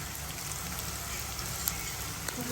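Spices dry-roasting in a pan for Kolhapuri misal, giving a soft, continuous crackling sizzle with occasional small pops, heard alone at close range.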